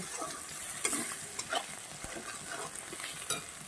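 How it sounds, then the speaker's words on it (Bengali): Broccoli sautéed in a pan with turmeric, cumin, coriander, salt and ginger paste, giving a steady low sizzle with soft scraping stirs recurring every second or so, close by and with no talk. "তো এই উপকরণগুলো দিয়েও আরও সুন্দর করে আমি কষিয়ে নেব।"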